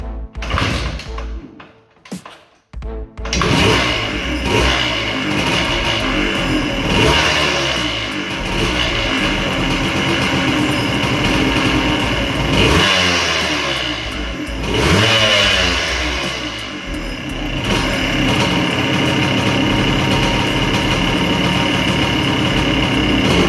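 A motorcycle with a freshly rebuilt top end is turned over, then starts and runs loud and close, revving up and down repeatedly over a steady engine roar.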